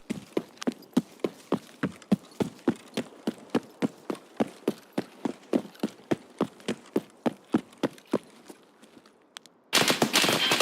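Rapid, evenly spaced gunshots ring out in Escape From Tarkov, a long string of sharp single reports at a steady rhythm that stops abruptly, followed by a brief quiet gap and then a loud burst of noise.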